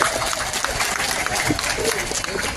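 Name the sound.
crowd applause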